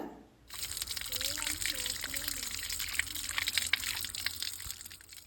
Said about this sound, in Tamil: இந்த பசு மஞ்சளை யூஸ் பண்ணுறதுக்கு முன்னாடி நல்லா வாஷ் பண்ணிக்கோங்க